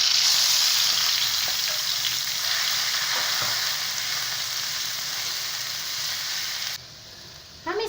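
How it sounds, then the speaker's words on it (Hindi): Boiled bottle gourd (lauki) fries in ghee in a pan with a constant close hiss and a few soft utensil taps. The sizzle fades near the end, then some brief clatter follows. "अब इस घी में हम ये लौकी ऐड कर देते हैं"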